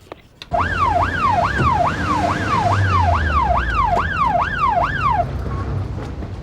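Ambulance siren on a British street in 1993, a loud close wailing two-tone sweep that repeats about ten times quickly and then stops, leaving engine rumble.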